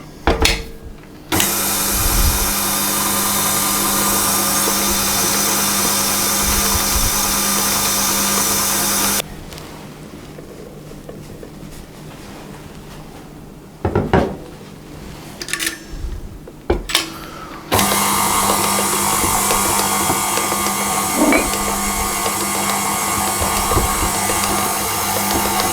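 Electric mixer beating strong white bread flour into St Lucia bun dough, a loud steady motor whir running in two long stretches with a quieter pause between them where the mixer stops briefly.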